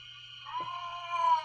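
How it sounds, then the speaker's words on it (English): A cat lets out one drawn-out meow close by that rises and wavers, heard alone over a low steady hum. "Do excuse the noise of my cat in the background."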